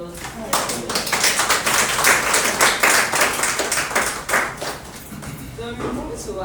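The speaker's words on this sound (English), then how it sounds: "a big round of applause" Applause at a hospital training session rises into dense, sustained clapping from a group of listeners, loud and steady for several seconds before thinning toward the end.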